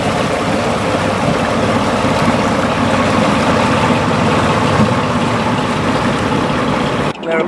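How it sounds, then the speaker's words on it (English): Steam engine of a 1936 Grand Union Canal Carrying Company motorboat running at a canal boat rally, a loud, steady, continuous mechanical chugging and rumble that holds throughout and drops briefly at the very end. "If we don't light a fire and raise steam, we don't go anywhere."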